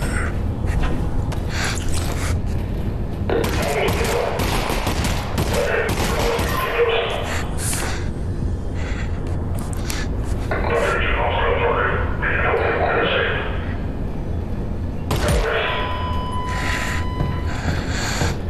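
Gunfire in the VR shooter Half-Life: Alyx: a run of loud, close shots and bursts spread through the scene, over constant game noise and ambience, with a voice talking at times.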